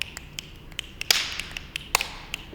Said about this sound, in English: It's okay, you can clap.